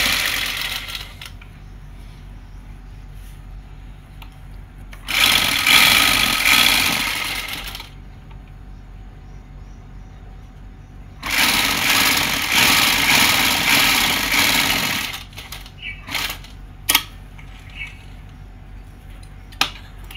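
A motorised sewing machine stitches a frock with lace trim in two long runs of a few seconds each, loud and close, with quieter handling noises and clicks in between and no talking.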